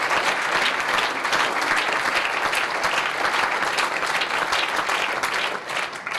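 Steady, full applause from a crowd of delegates at an SPD state party convention in Brandenburg, continuous and evenly loud throughout before easing slightly at the end.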